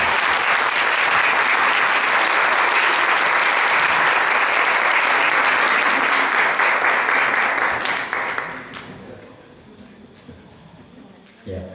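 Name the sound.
applause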